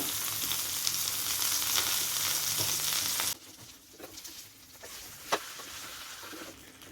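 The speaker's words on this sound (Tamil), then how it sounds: "இந்த பக்கமும் ஒரு மீடியம் ஃப்ளேம்லேயே வச்சு நல்லா ஃப்ரை பண்ணிக்கலாம்." Rock fish fries in oil over a medium flame, a dense, crackling sizzle that runs loud and steady and then suddenly drops to a softer, sputtering patter with occasional pops.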